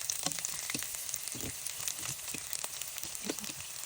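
Pieces of pork liver dusted in potato starch fry in sesame oil in a pan, giving a close, steady sizzle scattered with small sharp pops and crackles, with no talking.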